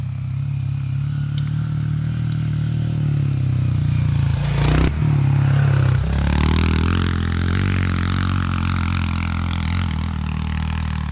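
A 2022 Honda CRF125F beginner dirt bike idles and putters steadily close by, its small engine rising briefly in a quick rev and a clattering scrape midway before settling back to a steady drone.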